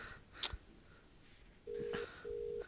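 A phone call goes through: a few faint keypad beeps sound, then two long, steady ringback tones pulse at the end, quiet and with no voices.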